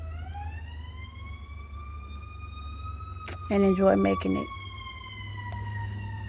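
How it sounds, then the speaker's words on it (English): A siren passing on a busy street wails, rising and slowly falling through the whole clip, with a brief burst of talk partway through and steady low traffic rumble beneath. "Forgive the sirens."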